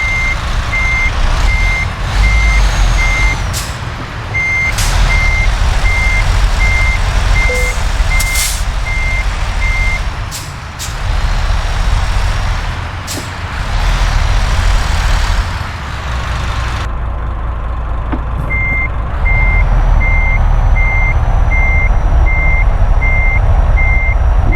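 A MAN TGX truck's reversing alarm beeps in an even, repeating rhythm over loud engine rumble, pausing for several seconds before resuming, with occasional air-brake hisses and clanks.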